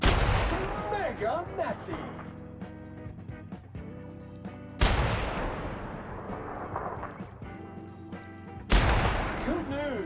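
Gunfire in The Outer Worlds video game: loud bursts of shooting over a busy game soundtrack, with two sharp blasts standing out, while someone talks over the action.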